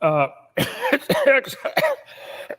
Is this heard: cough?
yes